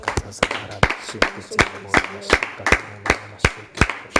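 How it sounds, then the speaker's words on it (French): A church congregation claps in a steady rhythm of sharp, evenly spaced claps during worship, loud and close, with a low voice under it. "Bénissons le nom du Seigneur par nos acclamations."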